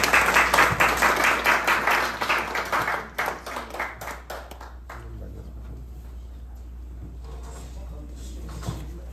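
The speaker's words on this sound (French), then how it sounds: "Je vous demande de l'applaudir." Crowd at a school ceremony giving a round of applause, loud dense clapping for about three seconds that thins into scattered claps and dies away to room murmur and a few distant voices.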